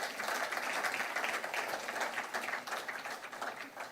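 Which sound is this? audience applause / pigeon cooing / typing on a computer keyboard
audience applause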